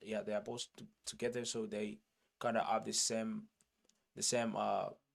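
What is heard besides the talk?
None of the usual background noises is heard.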